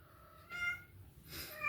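A cat meows twice indoors, two short, soft calls separated by a brief pause against a quiet room background.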